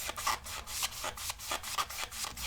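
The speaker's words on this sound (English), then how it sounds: "really pressing down and see if the magic eraser will work at all" A magic eraser is pressed hard and scrubbed back and forth across a smoke-damaged Nintendo Game Boy shell. The rubbing comes as steady, rhythmic close-up strokes, roughly five per second, with no talking.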